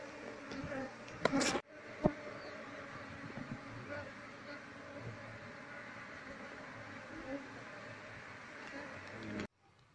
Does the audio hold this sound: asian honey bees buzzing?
yes